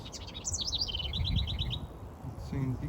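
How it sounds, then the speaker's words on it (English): Small songbird, a warbler, chirping from inside a backyard birdhouse, with a run of quick high tweets through the first two seconds and a few softer calls near the end against a faint outdoor background. "That's the bird."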